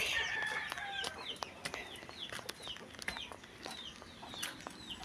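Backyard poultry, hens and ducks, fill the air with a steady run of short, high chirps and clucks, some close and some farther off, over a soft outdoor background with no talking.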